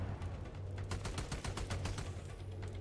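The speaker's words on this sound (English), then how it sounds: "What is shooting where?" Rapid bursts of automatic gunfire in a military shooter video game, sharp repeated cracks clustered in the middle of the clip over a low steady rumble.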